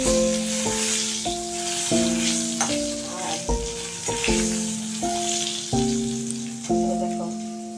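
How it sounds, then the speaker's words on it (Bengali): Sliced pointed gourd frying in a pan gives a continuous close sizzle, heard beneath louder melodic music that steps through sustained notes. "এই যে পটল ভাজা চলছে"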